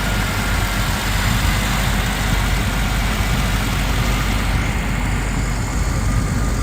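A 2000 Range Rover P38 Holland and Holland with the 4.6 V8 idles smoothly and evenly, a close, continuous low engine rumble with no other sounds.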